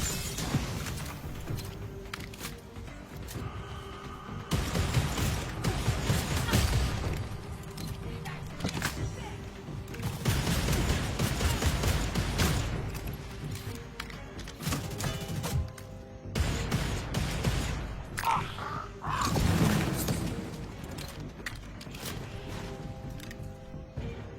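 Assault rifle gunfire in a video game comes in repeated bursts and clatters over about twenty seconds, loud and close, mixed with thuds and crashes, while a person talks over parts of it.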